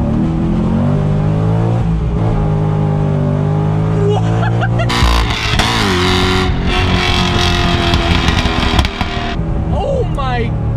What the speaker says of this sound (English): Of course, you don't buy this car to drive normally, right? Let's do our first pull of the day.